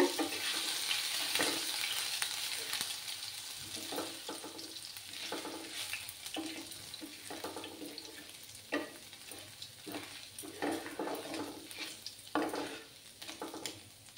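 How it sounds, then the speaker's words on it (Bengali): Chopped ginger fries over a low gas flame in a pan, sizzling steadily while a spoon scrapes and stirs it in repeated strokes, close and fairly loud with no one talking. "এবার আমি এই যে আদা দিয়ে দিলাম, আদা কুচি। দিয়ে ভালো করে নাড়াচাড়া করতে হবে।"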